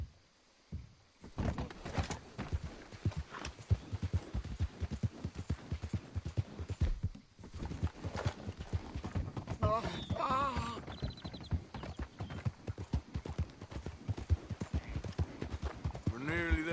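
Horse hooves clip-clop in a steady, brisk rhythm while riding in Red Dead Redemption II, a close, continuous galloping patter with a brief lull partway through and game voices and effects mixed in.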